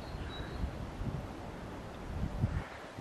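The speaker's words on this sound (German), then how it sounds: "Nur leider, es wird immer mehr mit dem Wind." Steady wind gusting on a forested mountain trail near a lake, a broad rushing noise that swells slightly toward the end, with no talk.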